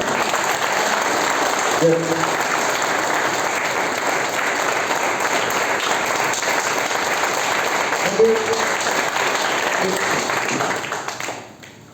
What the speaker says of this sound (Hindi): एक बार जोरदार ताली बजेगी